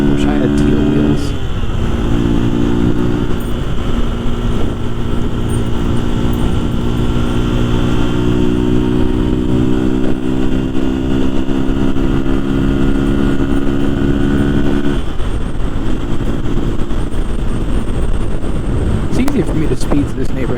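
A motorcycle engine drones steadily under a rider's voice, with a sustained harmonic engine tone that holds through most of the ride and briefly dips before picking back up.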